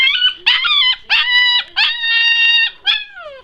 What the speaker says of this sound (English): Can I hear you howl?